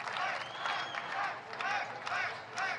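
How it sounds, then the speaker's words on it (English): A crowd at an outdoor political rally claps and cheers in a dense, steady wash of applause with voices mixed in, swelling in a few soft waves. "they're clapping"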